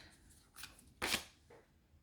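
A few quick riffling bursts of cards being shuffled nearby, the loudest in the middle, with soft flicks around it.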